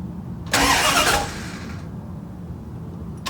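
An old starter motor cranks a classic Mopar car engine in one loud, harsh burst of about a second that then fades out into quiet background noise.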